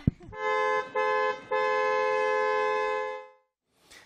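A car horn blares in long sustained honks with two brief breaks, a loud wedding-celebration toot that cuts off near the end.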